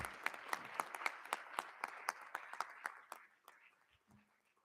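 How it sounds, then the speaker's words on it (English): Crowd applause at a school board meeting honoring students of the month, a steady round of many hands clapping that fades out over a few seconds, with a brief voice near the end. "One last round of applause for all of our students of the month."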